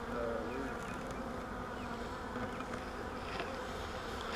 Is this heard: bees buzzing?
yes